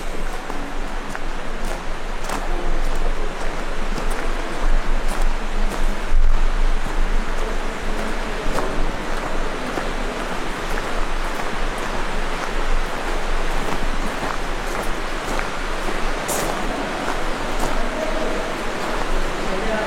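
A small river flows in the Zugarramurdi witches' cave, giving a steady, fairly loud rushing wash of water that stays even throughout, with no talk over it.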